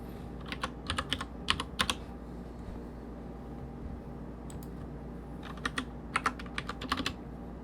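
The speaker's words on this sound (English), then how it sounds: "Let me just type that in here." Typing on a computer keyboard during a math lecture, two short bursts of quick, light key clicks separated by a quiet pause over a low background hum.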